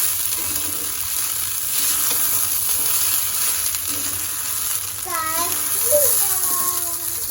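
Rice sizzles steadily as it fries in a pan, with occasional stirring scrapes throughout and voices, including a child's, talking over it near the end.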